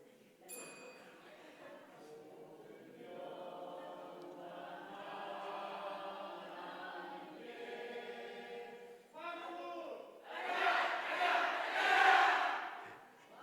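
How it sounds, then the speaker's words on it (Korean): A church district group at a Korean worship service shouts its slogan in unison, many voices chanting together and swelling loudest in a final burst. "4교구부터 우리 구호 외치겠습니다"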